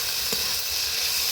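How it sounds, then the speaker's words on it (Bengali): Drumstick, green banana and lentil dumplings with cumin paste sizzle steadily in a hot pan, a constant bright frying hiss with one brief stir knock. "এবার জিরে বাটাটা দিয়ে একটু কষিয়ে নেব"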